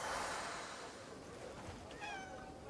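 A cat meows in the video game Crimson Desert. One short, faint meow rises near the end over a steady background wash of noise.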